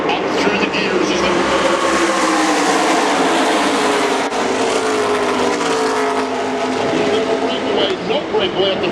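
NASCAR Truck Series race trucks roar wheel to wheel at Talladega, a dense, loud, sustained engine drone with shifting pitch as they climb through the gears, under continuous race commentary.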